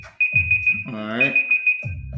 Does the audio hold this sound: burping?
no